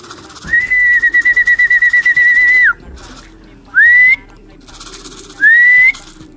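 Pigeons give loud, close whistling coos: one long sustained call with a fluttering pulse, then two shorter rising calls after brief pauses.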